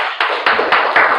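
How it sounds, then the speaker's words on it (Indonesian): Children in a grade-4 classroom applauding, with a quick run of sharp, bright claps about every quarter second, loud and close. "Tepuk tangan untuk teman kita."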